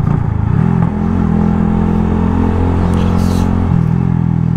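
A Yamaha R125 motorcycle engine holds a steady, high-pitched scream at high revs, close and loud, dipping briefly in pitch twice before settling again.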